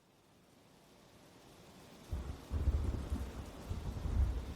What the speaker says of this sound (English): The storm continued to move in as George and his team began their journey.